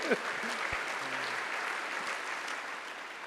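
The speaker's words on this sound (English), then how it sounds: "Big round of applause for the nail" Audience applause at a talk on leading with gratitude, a soft, even, sustained wash of clapping heard from a distance, with a brief voice near the start.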